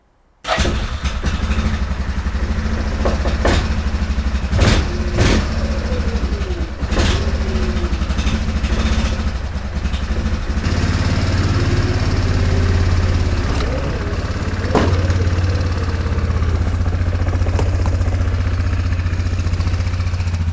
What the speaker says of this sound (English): I'm just going to let this thing idle away out here and warm up a little bit.